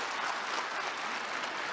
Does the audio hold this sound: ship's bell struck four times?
no